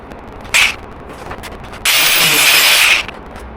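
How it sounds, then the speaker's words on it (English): An angle grinder cuts pipe during installation of an on-demand tankless hot water heater, giving a short burst followed by a loud, steady whine lasting about a second, then cutting off. "I'm gonna need my grinder for that."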